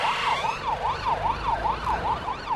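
A police escort siren wails in a fast, regular up-and-down yelp, loud and fairly close over low traffic rumble, with no voices.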